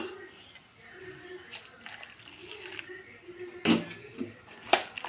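Quiet splashes and wet slapping as water goes into a thick onion pakoda batter and is stirred, with a few sharper sloshes toward the end.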